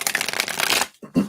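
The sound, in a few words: shuffling tarot cards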